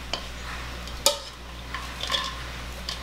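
A really sharp knife slices kernels off an ear of corn for Southern cream corn, giving a few sparse, crisp knife clicks and scrapes over quiet kitchen hum, with one sharper cut in the middle.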